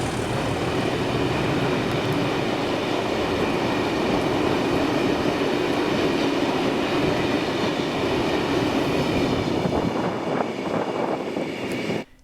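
A Class 37 locomotive, 37685, hauls a rake of TTA wagons loaded for scrap on a Scottish line, a loud, steady rumble and rolling clatter that holds for about twelve seconds before cutting off abruptly.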